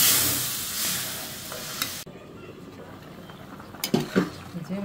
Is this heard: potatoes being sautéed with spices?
yes